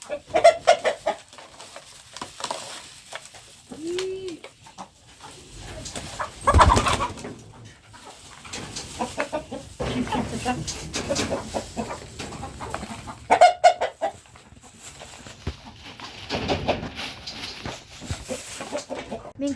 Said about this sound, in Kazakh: Қазір біз тауықтарымызға жемін беріп жатырмыз.